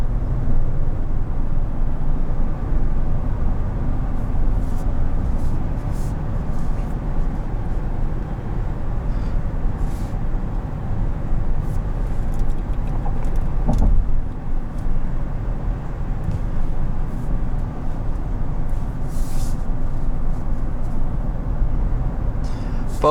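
A 2020 GMC Yukon XL Denali with its 6.2-litre V8 accelerates hard to pass, a steady low engine drone with road and wind noise heard from inside the cabin, with no talking.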